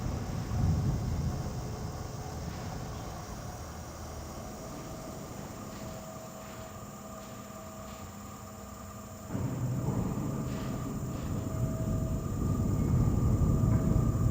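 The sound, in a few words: tram in World of Warcraft (Turtle WoW), from a video game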